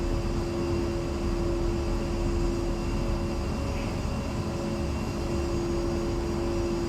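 An A-10C II jet taxis toward the runway in the flight game DCS World, a steady engine whine and broad roar holding at an even level with a sustained tone and no talk.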